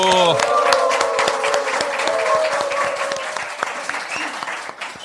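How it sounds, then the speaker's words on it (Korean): A studio audience breaks into loud, dense applause with scattered cheers and whoops to open a Korean political talk show, the clapping sustained and close throughout. "여러분의 힘찬 박수와 함께 시작하겠습니다"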